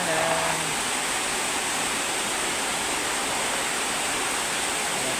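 Floodwater rushes in a steady, dense roar, loud and constant throughout, with no clear voices over it.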